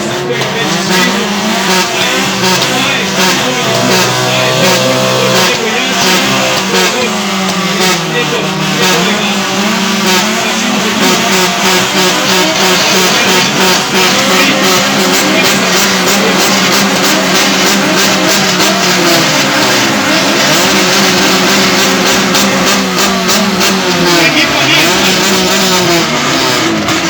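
Drift cars at a night drift event revving their exhausts in a loud exhaust contest, a dense continuous roar of engines rising and falling with crackling pops, very loud and close throughout.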